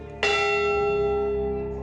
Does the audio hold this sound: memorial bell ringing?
yes